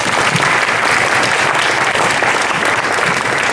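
Loud, dense applause from an audience at a school sports recognition event honoring a girls' team, steady clapping throughout with no break.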